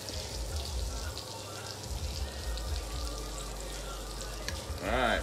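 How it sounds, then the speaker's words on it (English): Jackfruit nuggets frying in hot oil give a steady, close sizzle that holds for the whole stretch, with a brief stir or clatter near the end. "Y'all hear that sizzle?"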